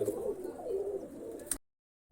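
A yellow-eyed breed pigeon coos nearby, a short low warbling call lasting about a second and a half before the sound cuts to silence.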